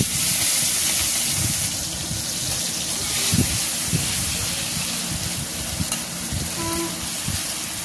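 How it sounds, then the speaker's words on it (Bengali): Shrimp, 200 grams of prawns, fry in hot oil in a wok, giving a steady close sizzle and crackle throughout, with occasional stirring clatter and spatula scrapes. "মাছটা আমি ভেজে নিচ্ছি।"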